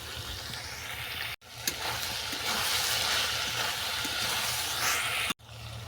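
Ingredients for a pineapple pulao, with chopped mint and coriander leaves, fry in a pan with a steady, close hiss that holds throughout, broken by two brief silent gaps. No one speaks.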